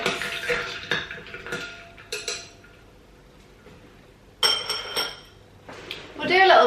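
Glasses and utensils clink and rattle as an espresso martini is stirred with tonic or lemonade, bursts of light clatter and scraping between quiet gaps, with a louder rattling swirl at the end.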